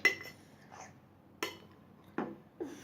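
A spoon clinks against a dish during eating: a few sharp, bright taps spaced irregularly across a quiet background, close by, with no talking.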